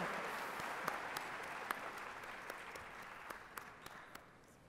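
Graduation ceremony crowd applauding steadily from a large audience, a dense even wash of clapping with a few sharper individual claps standing out, holding level throughout before easing slightly at the end.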